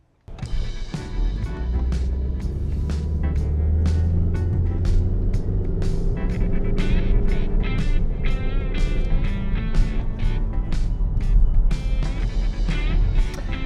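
A Saab 9-5 wagon with a 2-litre, 150 hp turbo engine and automatic gearbox drives along, its steady low engine and road rumble continuous throughout, with repeated clicking ticks on top.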